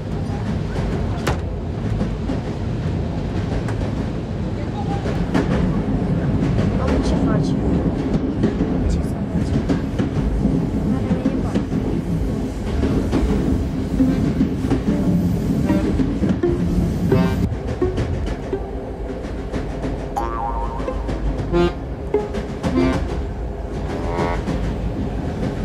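A train rolls steadily along the rails with a continuous loud rumble and rhythmic clatter throughout, heard from on board, with some people's voices faintly mixed in.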